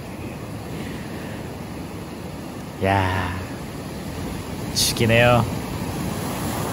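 Breaking ocean waves on a Korean east coast beach at sunset, a steady broad wash of surf with wind noise throughout, while someone speaks briefly twice over it.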